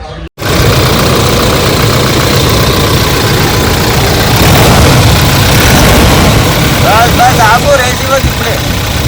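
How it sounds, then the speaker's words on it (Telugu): A 2017 Toyota Innova Crysta 2.4 V diesel idles close by with a steady low rumble and ticking clatter, while someone talks over it. "ఇంజన్ కండిషన్ చూడండి, ఫుల్ టైట్ కండిషన్ ఉంది."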